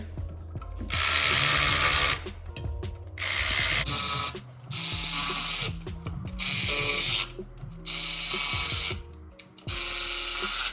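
Cordless impact wrench and ratchet tightening bolts on a drift car during prep work near the oil pan, loud repeated whirring bursts of a second or two each, separated by brief pauses, close up with no talk.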